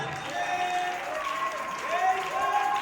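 A church congregation applauding the Lord, with steady, sustained clapping from the crowd. Voices and sung or called-out tones ride on top throughout.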